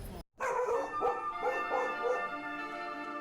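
A dog barks and yips repeatedly nearby, excited and persistent, against a steady background hum.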